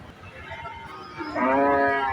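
A pregnant Friesian cow lows loudly at the weekly Dhaper Hat cattle market in Dupchanchia, Bogura, one drawn-out moo rising over steady market crowd noise.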